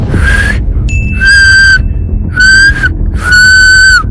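A person whistles three or four sustained, steady notes with short pauses between them, loud and close against a low background rumble.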